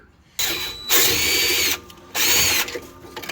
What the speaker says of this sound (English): we're just drilling holes into the frame a little bit further forward